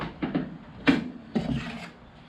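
A hacksaw cuts a piece of wood clamped to a table, giving a few rasping strokes in an uneven rhythm, moderately loud and close, with no talk.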